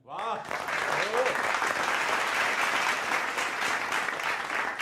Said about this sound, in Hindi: इस पे एक और ताली हो जाए।